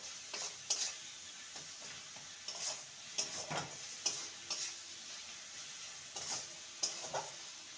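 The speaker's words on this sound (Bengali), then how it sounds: "সমস্ত কিছু ভালো করে নেড়ে নেব।" Potol and spices with Kashmiri chilli powder stirred in a pan, a spoon scraping and tapping the metal in irregular strokes over a soft frying sizzle, close and clear, with no talk.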